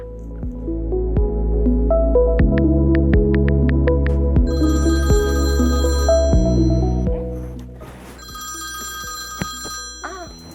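An outgoing phone call rings in a repeating electronic ring pattern on a landline-style handset, loud and close, ending with a faint click as the line is picked up.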